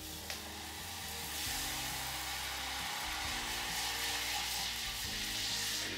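Brown butter in a frying pan sizzles steadily after lemon goes in, a constant bright hiss with a low hum underneath and no talking.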